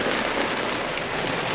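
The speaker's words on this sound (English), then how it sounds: "it's decided to rain today, and it is pouring down, thunder and lightning" Heavy summer rain pours down during a thunderstorm along the Daniel Boone Backcountry Byway, a dense, steady, loud hiss of falling drops with no pauses throughout.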